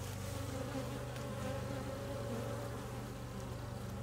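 A steady, dense honeybee buzz drones on without a break, many bees humming together close by around a hive on buckwheat, with no voices.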